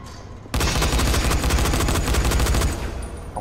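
Rapid automatic gunfire from the zombie survival video game Dying Light The Following, a sustained burst of dense, loud shots lasting about two seconds after a brief quiet start, then tapering off.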